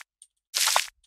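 Dirt scraped underfoot in a single foot-slide sound effect, unprocessed: one short, bright, gritty rasp about a third of a second long, close and fairly loud, with faint ticks before and after.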